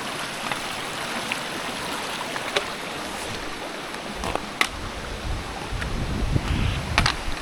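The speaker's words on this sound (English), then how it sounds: "River crossing." Steady broadband rush of a river flowing past a hiking trail river crossing, continuous and fairly close, with a few small splashes and knocks rising toward the end.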